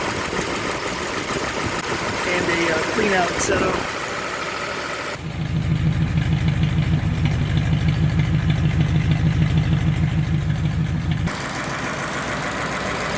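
A rebuilt 1936 Ford flathead engine idles in a steady, even low rumble for several seconds, with talk and other noise before and after it.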